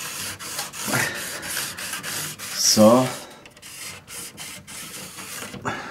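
Model railway track is scrubbed with a handheld sanding tool in repeated short rasping strokes, close and fairly loud, with a brief spoken word midway.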